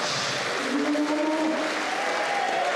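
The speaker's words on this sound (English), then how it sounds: "how about another rousing round of applause" Continuous applause from an audience at a sea shanty performance, a dense, even clatter of clapping at moderate volume with a faint voice briefly audible beneath.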